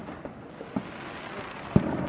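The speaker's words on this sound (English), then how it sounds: "come see the fireworks" A few distant booms and pops of fireworks, sparse and irregular, with one sharper bang near the end over a quiet outdoor background.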